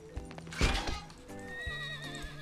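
A horse in Red Dead Redemption 2 gives a loud, shaky whinny close by, with a few hoof clip-clops around it.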